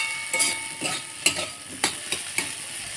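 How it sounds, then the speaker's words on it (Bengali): Small potatoes fry in a pan with a steady, close sizzle, while a utensil stirs them and scrapes the pan in several sharp, irregular strokes. "আলুটা আমার ভাজি হয়ে গেছে, এখন আমি নামিয়ে দেবো"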